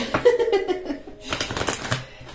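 Oracle cards shuffled by hand in short papery riffling bursts, close and fairly loud, with someone talking in French around them.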